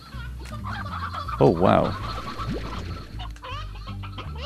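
Hens and roosters clucking and crowing in the video game Slime Rancher, with a loud burst of bird calls in the middle over steady game background sound and brief talking.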